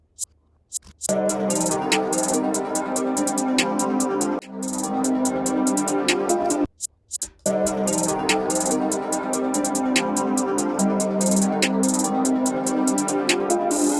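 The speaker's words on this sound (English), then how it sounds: "based on a two-step pattern with lots of like short, hard rolls" Busy electronic beat with fast ticking hi-hats in a two-step pattern with short, hard rapid rolls, playing steadily throughout with two brief dropouts.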